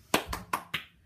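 Four sharp hand claps in a steady, slightly uneven rhythm, close and crisp, with a short fade after the last one.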